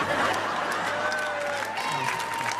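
Applause from a comedy club audience, a steady wash of clapping that continues through the clip, with a few cheers and chuckles mixed in.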